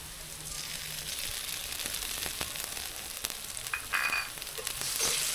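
A paste of ground cumin and coriander fries in a pan, a steady, close hissing sizzle broken by occasional stirring scrapes and pops that grow a little louder toward the end.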